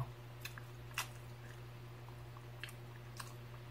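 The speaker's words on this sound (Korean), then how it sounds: "이거 조리퐁을 먹는 거고요" Someone eating Jolly Pong puffed cereal in milk makes quiet, soft chewing and crunching sounds. A few brief crisp bites stand out over a steady low hum, and no one speaks.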